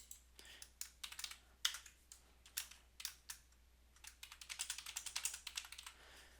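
Typing on a computer keyboard: quiet close key clicks in irregular bursts, sparse at first then a quicker run of rapid taps near the end, with no talking.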